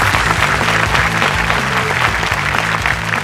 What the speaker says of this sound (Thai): ขอเสียงปรบมือดังๆครับ